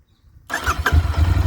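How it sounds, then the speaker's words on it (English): A Royal Enfield-style Interceptor 650 BS6 twin-cylinder motorcycle with stock exhausts cranks and fires up abruptly from silence, settling straight into a deep, bassy, throbbing idle close to the microphone. "the stock exhausts in themselves produce an amazing soundtrack"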